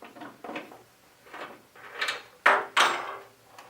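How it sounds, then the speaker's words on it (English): The front bay door of a TOC calibration unit swings open after its hex nuts are loosened, giving a few close rattling and scraping clunks that end in two sharper knocks. "and swing the bay door open."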